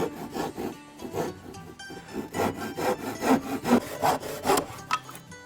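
A hand saw cuts through wood for a jewellery box, about a dozen rhythmic rasping strokes that grow louder and quicken, close up with no talking.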